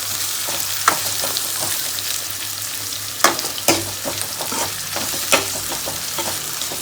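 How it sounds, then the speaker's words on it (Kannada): Carrots and onions fry in a pan with a steady sizzle, broken by several sharp clicks and scrapes as the vegetables are stirred, and no voices can be heard. "ಕ್ಯಾರೆಟ್ ಹಾಕಿ ಸ್ವಲ್ಪ ಫ್ರೈ ಮಾಡ್ಕೊಳ್ಳೋಣ"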